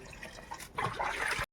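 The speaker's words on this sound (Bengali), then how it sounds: "তো পাইপ লাগিয়ে আর কি আমরা জলটা এই পাশে নিয়ে এসে কাজ করছি" Water runs from a tap through an attached pipe beside an outdoor drain, a brief close trickle and splash that grows louder and fuller halfway through before cutting off.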